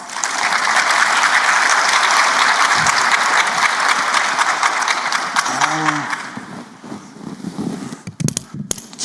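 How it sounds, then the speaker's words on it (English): A conference audience at a workforce summit plenary session bursts into loud, sustained applause that fills the hall for several seconds, then tapers off into scattered claps and a voice. "Give her a nice round of applause."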